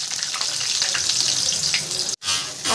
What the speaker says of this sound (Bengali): তেল গরম হয়ে গেছে, এর মধ্যে আমি আলুগুলোকে ভেজে নেব।